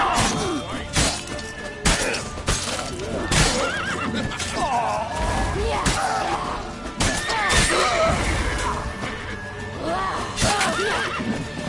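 Horse in The Witcher 3 video game neighing and whinnying repeatedly amid clip-clopping hooves, crashes and thuds, with people talking over the commotion.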